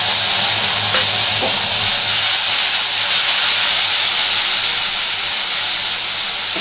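Tomato paste hits hot oil in a pan with a pinch of asafoetida for a paneer kofta curry, giving a loud, steady, steamy hiss and sizzle that fills the whole stretch up close.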